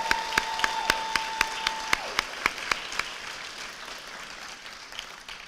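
A welcome session crowd claps, starting with a few distinct, evenly spaced sharp claps near the listener that build into a broader wash of applause from many people, with a brief tone sounding early on.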